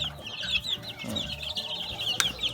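Newly hatched chicks at a Thai farm nursery cheep in rapid, high-pitched peeps close by, with a soft rustle of movement and occasional louder calls.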